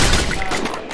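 Gunfire in a video game, a loud, close burst of rapid shots crackling over about a second, fading slightly toward the end with no voices over it.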